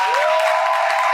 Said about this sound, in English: I need y'all to clap it up for him.